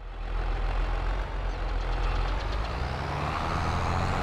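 A tractor in Farming Simulator 22 sows a field, its engine chugging steadily with a deep low rumble and a constant mechanical drone, loud and close, with no talk over it.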